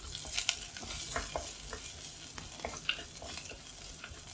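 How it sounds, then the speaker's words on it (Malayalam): Chopped shallots sautéing in a pan with oil, a continuous close sizzle and crackle with repeated spatula stirring scrapes throughout. "നമുക്ക് ഉള്ളിയൊക്കെ ഒന്ന് നന്നായിട്ട് ഗോൾഡൻ ബ്രൗൺ ആവുന്നവരെ ഒന്ന് ഇളക്കി കൊടുക്കാം"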